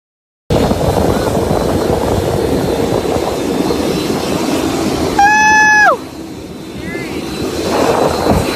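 Steady broadband engine drone of an aircraft cabin fills the clip, briefly topped by a tonal electronic chime before the hum continues.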